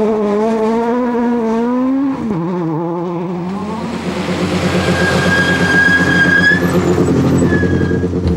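Junior WRC rally car at Wales Rally GB 2006 crossing a stage finish line, its engine loud and close, note rising then dropping, followed by a broad roaring pass with whining tones.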